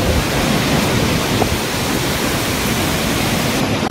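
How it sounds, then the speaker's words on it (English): At Bari beach a storm roars with heavy rain and strong wind, a loud, dense, unbroken wash of noise that holds steady throughout. "The terrible storm that is hitting the city at this time."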